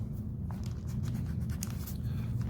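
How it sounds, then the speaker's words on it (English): A pen scratches briefly across a lab book page, soft and close, over a low steady room hum. "So in our lab book, we write"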